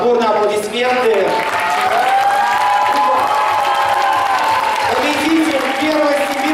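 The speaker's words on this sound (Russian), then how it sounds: "Дорогие друзья, отборные аплодисменты." A crowd at a KVN comedy festival applauds and cheers loudly and continuously. Voices shout through the dense clapping, and a raised voice carries over the noise.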